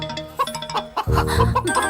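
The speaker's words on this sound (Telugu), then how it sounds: "ఇక్కడెక్కడో కోడి సౌండ్ అనిపిస్తుంది." A chicken clucks in short, close bursts, with a denser run of clucking in the second half, in a Telugu film scene.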